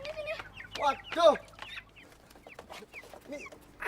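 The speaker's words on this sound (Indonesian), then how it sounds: "Ayam siapa sih ini?" Close chickens cluck in a quick burst of squawks, then fainter scattered clucks follow over quiet farmyard background.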